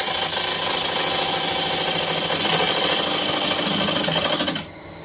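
A smaller ball gouge cuts an olive ash bowl spinning on a wood lathe, giving a continuous loud whirring, chattering drone close up that runs steadily, then drops away sharply near the end.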